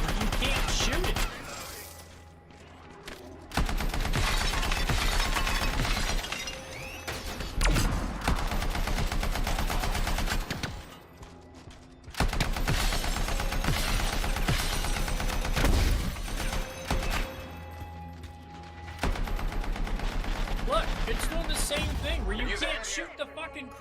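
Sustained bursts of automatic gunfire from the Anthem video game, firing at a crystal, roll in long loud volleys separated by brief pauses, with someone talking over them.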